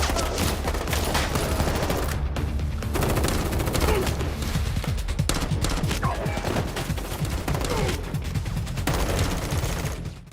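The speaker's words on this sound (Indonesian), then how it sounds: "Di tengah baku tembak" Dense, continuous gunfire from a film shootout, loud and sustained with overlapping shots and bursts throughout, set against tense cinematic sound and no clear talk.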